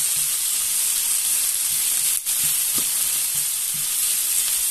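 Food sizzles steadily in a pan for Turkish eggs, stirred often so it softens without burning; a constant bright hiss fills the clip with a brief dip midway and soft scraping knocks beneath.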